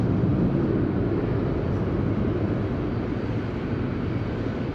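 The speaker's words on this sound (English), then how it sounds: "Very noisy plane." A very noisy airplane at Madeira Island Airport produces a steady, loud, broadband engine roar that holds evenly throughout with no other sounds standing out.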